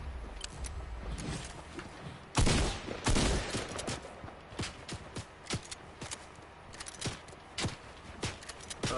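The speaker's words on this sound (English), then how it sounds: "we're getting shot from freaking far away" Video game gunfire crackles in scattered sharp shots, a couple of louder nearby bursts early on and many quicker, fainter reports from a distance, with no voices.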